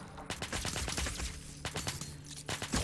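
Gunfire from the mouselook shooter video game Stern, with rapid bursts of shots crackling in quick succession against mutants. The volleys are dense and loud, with a short gap between bursts.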